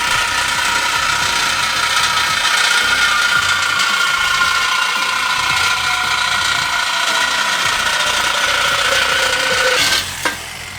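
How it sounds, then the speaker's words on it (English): A reciprocating saw cuts through a pipe being split in halves to form a concrete mold for homemade gym weight plates, a loud, steady buzzing rasp that runs continuously for about ten seconds, then stops abruptly. "get a sawzall and cut this pipe and then cut it in 2 halves"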